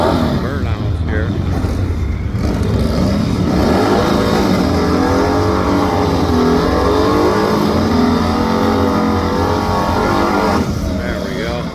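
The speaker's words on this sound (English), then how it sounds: "Let's see if we can get a couple burnouts here." A drag racing motorcycle does a burnout at a drag strip, a loud, continuous engine roar with a high whine held for several seconds, with a voice talking over it at times.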